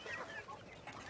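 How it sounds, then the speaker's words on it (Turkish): Hens near their laying spot on a Denizli farm let out a brief run of soft clucks and chirping calls, close and low in level. "Şurada bir tavuklarımızın yumurtladığı yer var."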